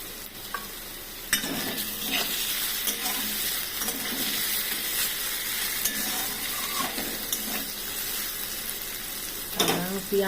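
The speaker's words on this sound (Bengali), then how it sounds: "মোটামুটি ভাজা হয়ে যাচ্ছে" Prawns fry in a pan with a continuous, close sizzle, broken by a few louder clinks and scrapes of stirring.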